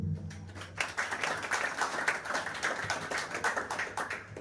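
An audience at a village event held by Mukund Madhav Foundation and Finolex company in Masar village, Padra taluka claps to welcome the company, a steady patter of many hands with a few sharper individual claps and little talk.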